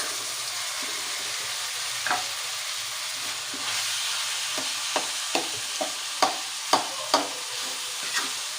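Rice and cooked mushrooms stir-fried in a hot wok with garlic for nasi goreng, a steady close sizzle broken by sharp scraping strokes of the spatula that grow more frequent toward the end.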